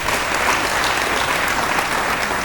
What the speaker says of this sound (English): We can do better by clapping hands once more.